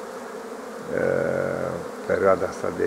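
Honeybees at an apiary buzzing on the first warm spring day, about 14 degrees, in late March: a steady humming drone that swells partway through, with someone speaking over it.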